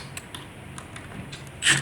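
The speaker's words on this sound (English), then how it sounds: "We'll screw in the rest of them." Screws being driven into a door hinge while fixing a sagging door that rubs and won't close, heard as scattered small creaks and clicks close by, ending in a brief louder metallic squeal.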